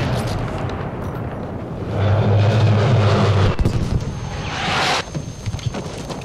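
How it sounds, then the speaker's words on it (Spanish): Military aircraft in the online shooter Battlefield V roar overhead in a loud, rising and falling rush with wind-like noise. It peaks mid-clip and a sharper whoosh follows. "¿Cómo suenan los aviones?"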